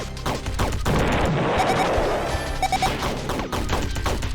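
Shooting attack fired in the video game Undertale Yellow, a dense burst of rapid, sharp synthetic shots and crashing impacts layered over busy game music, loud and continuous across the clip.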